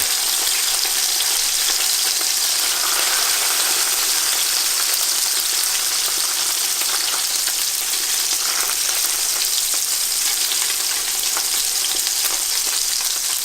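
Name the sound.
fish fillets pan-searing in butter, sizzling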